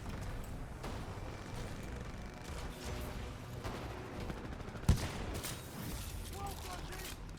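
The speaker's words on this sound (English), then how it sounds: "the gun sounds beautiful. Just listen to this audio." Kraber sniper rifle fire in Titanfall 2, heavy booming shots amid a dense stream of game gunfire and explosions, with one sharp loud crack standing out near the middle, under faint talk.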